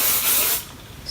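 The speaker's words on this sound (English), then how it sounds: "I'll just spray the bun a little bit." A short, close hiss of hairspray sprayed onto a hair bun, one burst lasting about half a second before fading into quiet.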